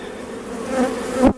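Honey bees swarm in a crowded Demaree-manipulated hive, giving a dense, steady, close buzzing hum that swells slightly before cutting off abruptly near the end.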